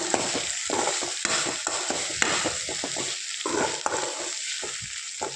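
Okra (ladies finger) stir-fries in a pan with a steady close sizzle and repeated scraping stirs at an irregular rhythm, alone without talk.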